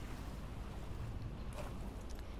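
Water in an ARK Survival Evolved game scene beneath a waterfall, heard as a faint, steady broadband wash and rumble that fills the whole stretch with no voices.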